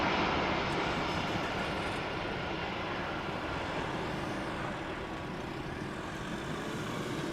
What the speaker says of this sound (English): Got a 737-800 from KLM flying to Helsinki, passing by over here in the sky.